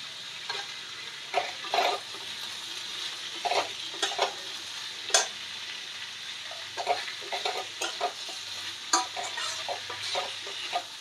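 Chili paste sizzles in a frying pan with onion and vegetables for a Bengali chili fish dish, a soft steady hiss broken by repeated clinking spatula stirs, no voices.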